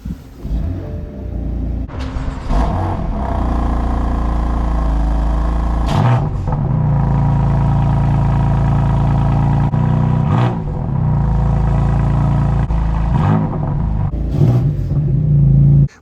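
BMW M4 with a 3.0 turbo 431 hp engine and DCT fires up from cold, loud deep rumble settling into a steady idle with several sharp rev blips punctuating it, no voices.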